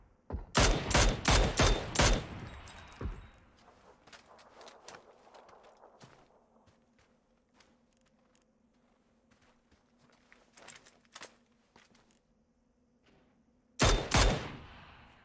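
Gunfire in the PUBG battle royale game: a loud burst of rapid shots at the start, a quiet stretch with faint footsteps and ambience, then another close burst near the end.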